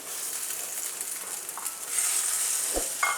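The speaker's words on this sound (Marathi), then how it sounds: "ह्याच्यामध्ये आता टाकणार आहे ही भेंडी" Okra goes into a thick, heavy pan of oil with salt over a low flame, giving a steady soft sizzle with a few light stirring clicks and a slightly louder crackle near the end.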